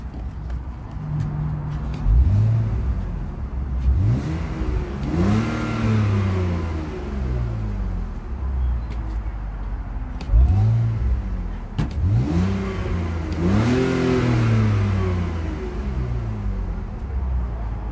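The engine and exhaust of a 2004 BMW Z4 2.5i convertible rev up and fall back in two bursts of repeated throttle blips over a low idle, close and loud.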